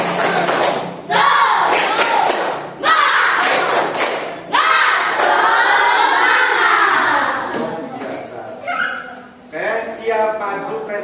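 An Indonesian school class performs a rhythmic spirit clap chant, loud massed young voices shouting in bursts over sharp, steady clapping, with short pauses between phrases.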